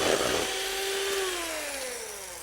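Electric mixer beaters whirring steadily through egg yolk and sugar in a bowl, a continuous close motor whine with a gliding pitch as the mixture thickens and lightens, no talking.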